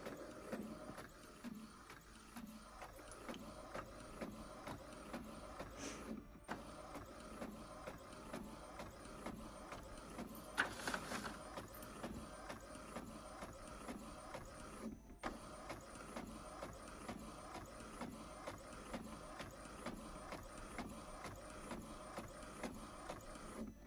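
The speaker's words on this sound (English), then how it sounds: "At this point, we're just going to hit print okay." An inkjet printer runs steadily, its print head shuttling back and forth in a repeating mechanical rhythm, with brief pauses and a louder whir midway.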